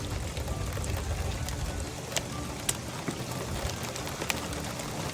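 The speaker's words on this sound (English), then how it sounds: "It's raining." Steady rain falls outdoors in a broadband hiss, with occasional sharper drips or taps standing out against the continuous wash; no voices over it.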